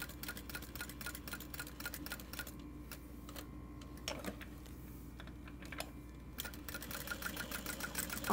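A home sewing machine stitches fabric while a garment is sewn, its rapid mechanical chatter running in steady bursts. The stitching pauses briefly midway, leaving a quieter gap of small clicks before the chatter resumes.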